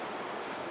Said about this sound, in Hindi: सामने पावर हाउस जो पानी का फव्वारा पड़ रहा है ना